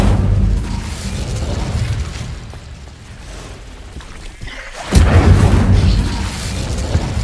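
Hogwarts Legacy's Incendio fire spell lands with a loud whooshing boom about two-thirds through, following a rumbling stretch of spell combat and ambient noise.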